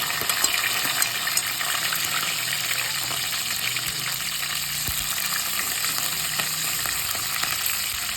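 Chopped onions fry in a pan for mutton curry, giving a steady, bright sizzle with occasional soft clicks from stirring. The sound is close and nobody speaks.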